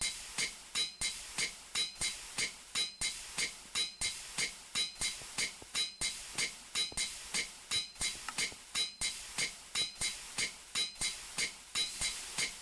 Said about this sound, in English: Hey, can you shut this hammer up?